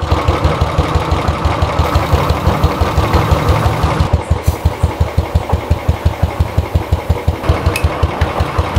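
A motorcycle engine runs in gear on a stand, first a blurred steady idle, then a loud, close, rhythmic thumping pulse of firing strokes with the chain turning.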